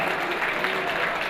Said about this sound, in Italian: Intanto che premiamo, facciamo un applauso a Desio Volley Brianza